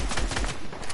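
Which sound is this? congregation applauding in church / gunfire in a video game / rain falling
gunfire in a video game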